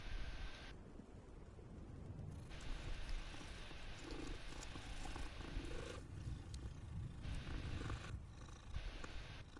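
A cat in the video game Hogwarts Legacy purrs up close with a low, continuous rumbling rhythm, and there is no talk during the purring.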